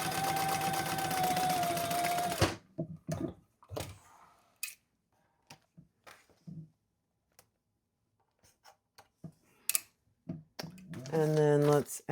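Sewing machine basting a gusset onto a fabric crossbody bag, a brief steady whirring run at the start, then quiet handling clicks and taps, with another short burst of stitching near the end.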